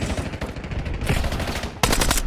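Rapid automatic gunfire from a Warzone squad battle royale match, dense and sustained bursts throughout, with a sharper, louder volley breaking in near the end.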